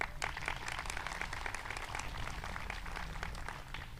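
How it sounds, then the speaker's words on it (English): A school audience at a Head of School Day ceremony gives a round of applause, steady scattered clapping heard at low level and somewhat distant throughout. "Scott Ward, who is unfortunately not with us today, but deserves a round of applause"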